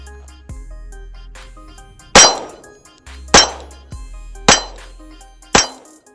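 Four loud, sharp pistol shots fired through a Strike Industries QUAD Micro Comp, each followed by a ringing clang from steel targets, spaced about a second apart after a brief low rumble, with no talking.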